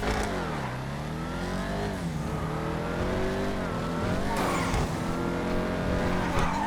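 Car engine in GTA 5 Online revving up and down in repeated rising and falling sweeps, with a brief tire-squeal burst near the end, loud and continuous.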